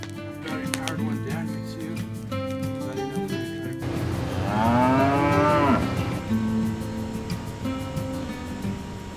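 Texas longhorn cattle low with a long, loud, drawn-out moo in the middle, amid clattering pen noise and a voice talking over the scene.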